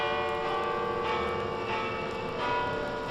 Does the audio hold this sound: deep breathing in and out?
no